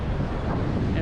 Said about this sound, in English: So it's a little windy today